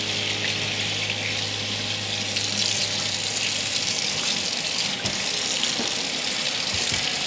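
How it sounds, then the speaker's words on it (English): A kitchen sink tap runs in a steady, close, broadband rush of water over bacon being rinsed, continuous and unbroken with faint splashing. "Now, let's turn on the sink."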